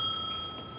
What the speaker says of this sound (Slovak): je to taký zvonec